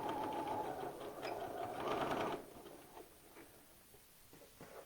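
Home sewing machine stitching a short tack through fabric on a Lauren top, a close steady mechanical whir for about two seconds that then stops, leaving only faint handling noise.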